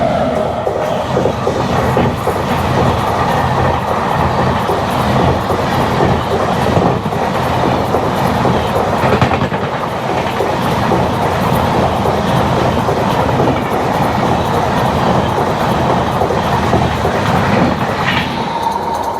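Passing train heard from inside a stopped Duronto express at a crossing halt in India, a loud continuous rumble and clatter of wheels on rails, steady throughout with no talk.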